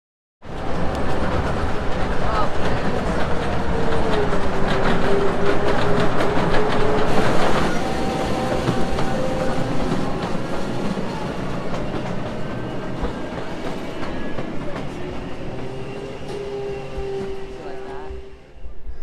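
A mine tour train rumbles steadily along the track inside an underground salt mine in Kansas, with a constant clatter and occasional high wheel squeals, loud and close throughout.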